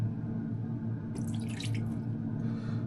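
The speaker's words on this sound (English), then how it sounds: "this may be even be a little bit too much water, so I pour a little bit off." Excess water is poured off a cooking pot in a brief trickling splash over a steady low kitchen hum.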